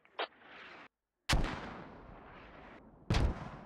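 Mortar fire in a military video game, with three deep booming impacts separated by gaps, each followed by a long rumbling decay, heavy and fairly close, with no talking.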